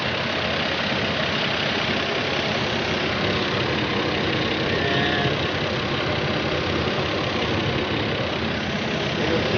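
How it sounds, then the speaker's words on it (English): A car engine idles steadily under an open hood after a power steering stop-leak treatment, a continuous close, even rumble with no breaks or revving throughout. "Engine's running smooth."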